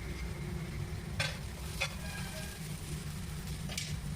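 Green chillies and masala for chole sautéing in a pan, a steady low sizzle with a few brief stirring scrapes of the spoon, close and even throughout.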